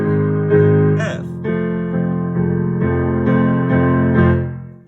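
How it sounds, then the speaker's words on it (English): Piano plays the pre-chorus chords with both hands, full sustained chords changing every second or so, loud and close before fading at the end. "In 2 hands, that pre-chorus pattern could look and sound like this."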